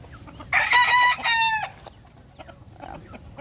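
A rooster crows loudly and close by in one long call, followed by softer clucking and scattered calls from young chickens on a farm.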